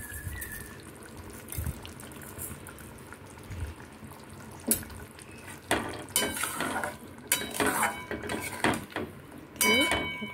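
Fish roe curry being stirred in a pot, with clinking and scraping of a spoon against metal and soft liquid sloshing, irregular knocks rising in the second half, close by and moderately loud.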